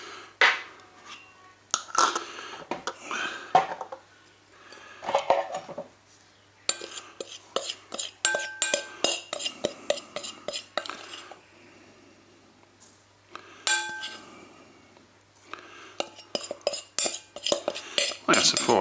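Leftover chili pieces tipped and scraped back into a big bowl while making chili powder: repeated clattering, scraping bursts of utensil against bowl, some rapid rattling runs, close and moderately loud, with no talking.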